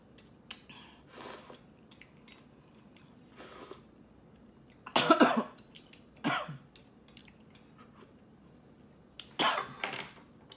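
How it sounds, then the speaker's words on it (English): A person coughing after eating spicy Indomie and Nissin instant noodles too fast: several sharp, close coughs and throat clears in scattered bursts, with quiet chewing sounds between them. "I was coughing because I was eating fast."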